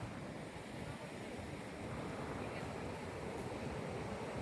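Steady wash of sea waves surging up the sand at Nagoa Beach in Diu, a continuous broadband roar with wind buffeting the microphone, with no pauses and no speech.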